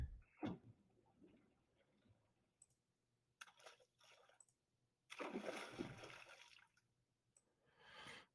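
Watery splash sound effects for an animation come in short bursts, one sharp splash at the start and broader sloshing splashes later, quiet and separated by near silence.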